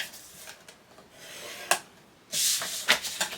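A scoring tool is drawn across paper for a Christmas album keepsake box, producing a few soft scraping strokes followed by a louder, longer rasp and quick short scrapes near the end.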